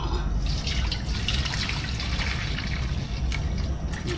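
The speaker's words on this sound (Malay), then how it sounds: "Okey, saya pakai air rebusan daging tadi. Air rebusan ni pun masih panas lagi" Hot beef broth from boiling meat poured into a pot while cooking Thai-style tom yam with beef tripe, a steady close liquid trickle and splash running continuously throughout.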